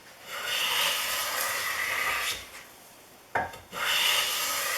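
A Stanley No. 60 low angle block plane shaves 3/4 inch wide pine in long, steady rasping strokes, close and clear, with a brief pause and a short knock before the next pass.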